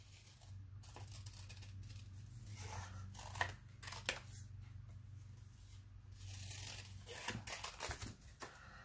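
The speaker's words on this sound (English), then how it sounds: "Now let me cut this." Scissors snip through a paper tag for a mixed media craft project, with several crisp close cuts spread over steady low room noise and a quicker cluster of snips near the end.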